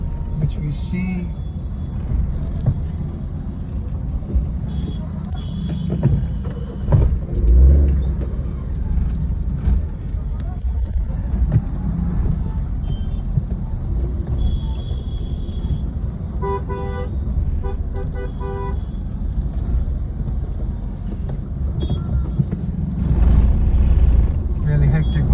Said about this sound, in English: This is the traffic which we see.